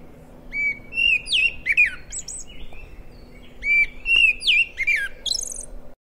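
A rufous-collared sparrow (copetón, Zonotrichia capensis) in Colombia sings clear, close whistled phrases with trills in two bursts, loud against a quiet background, with no talk.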